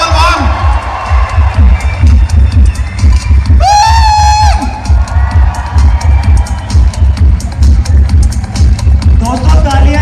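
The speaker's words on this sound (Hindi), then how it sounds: "जोरदार तालियां हैं आवाज से" An audience at a recognition ceremony bursts into loud applause and cheering, with whoops and shouts rising over steady clapping and a pounding rhythmic beat underneath throughout.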